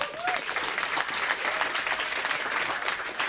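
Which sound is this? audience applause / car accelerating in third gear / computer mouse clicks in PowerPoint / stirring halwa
audience applause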